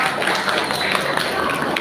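An audience at a student capacity-building session at an Islamic boarding school applauds, with brief, dense clapping from the crowd under some voices.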